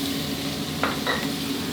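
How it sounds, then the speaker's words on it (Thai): Seafood sizzles steadily in a hot wok as fish sauce and seasoning are added at the pan's edge, with a couple of brief scraping stirs, close up and without speech. "ผมจะใส่เครื่องปรุงลงไปขอบกระทะนะครับ จะทำให้ได้ความหอมครับ"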